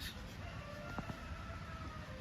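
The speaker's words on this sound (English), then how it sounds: "Woods roosters." A rooster crows out in the woods by a river bridge, faint and distant, under a steady outdoor background hiss.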